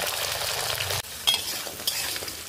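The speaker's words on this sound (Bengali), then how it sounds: "বিচিগুলো এখন আমি লাল লাল করে ভেজে নেব।" Jackfruit seeds fry in hot oil in a pan that held fried fish, a steady close sizzle broken by a brief stir near one second and a few light clinks after.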